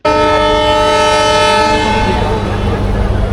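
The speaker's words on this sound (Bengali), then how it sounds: "আমাদের ট্রেন যে ছেড়ে দিচ্ছে যশোর থেকে" The Sagardari Express sounds a loud, sustained horn blast as it pulls out of Jessore station, close by, with rail and engine rumble continuing underneath as the tone fades.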